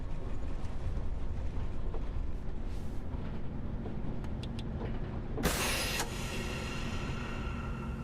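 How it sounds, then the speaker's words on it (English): Air brakes on a bus in a bus driving video game release in one sudden, loud hiss lasting under a second, set against a steady engine drone. "Did the air brakes there and it like almost blew my eardrums out."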